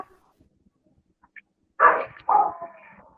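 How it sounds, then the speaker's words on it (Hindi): A dog barks outside, two short, fairly loud barks in quick succession after a quiet stretch with only faint background noise. "बाहर कुत्ता भौंक रहा है।"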